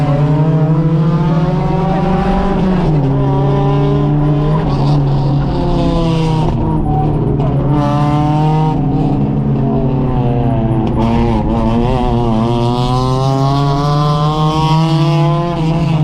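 Race car engines scream at high revs, pitch rising and falling through gear shifts, with tires squealing under hard cornering during a six-hour endurance race; loud, close and continuous.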